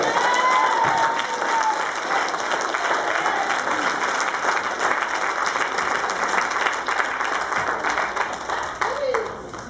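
A church congregation claps hands together during a sermon, a dense, steady wash of many hands that fills the room for the whole stretch, with a preacher's voice faintly carrying over it.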